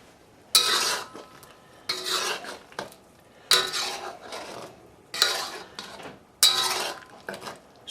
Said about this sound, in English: Stir as required.